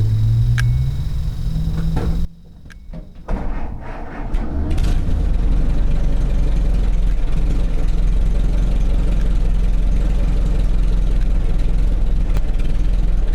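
An antique car's engine cranks briefly, then catches and settles into a steady, loud, low idle that runs on without a break.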